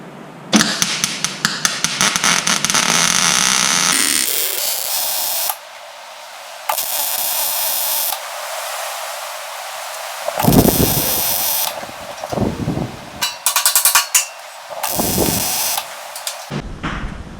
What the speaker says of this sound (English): So we're going to back up and weld this